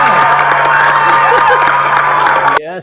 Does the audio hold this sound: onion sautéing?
no